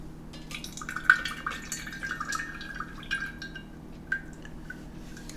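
Lemon juice drips and trickles through a kitchen strainer into a container, a close, quiet run of small liquid patters and droplets with no talking.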